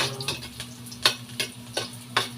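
Garlic and onion frying in a pan with a soft sizzle, punctuated by regular stirring scrapes about every third of a second, close and clear with no voices.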